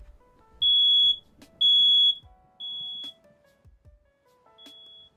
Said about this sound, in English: My smoke alarm only goes off when I open the door.